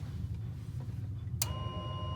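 A boat's bilge alarm gives a single sharp electronic beep once, then settles into a thin steady tone over a low rumbling engine hum, aboard a Rival 41 sailing yacht.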